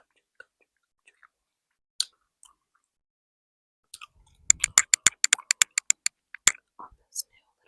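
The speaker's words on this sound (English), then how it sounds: "whisper ramble for you guys with some gum chewing, gum chewing, gum chewing, gum chewing." Gum is chewed close to a new mini microphone, giving wet, sticky smacks and clicks that start sparse, then turn into a rapid rhythmic burst before thinning out again, in near silence with faint whispering.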